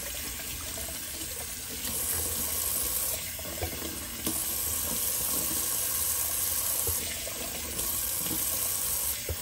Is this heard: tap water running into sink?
yes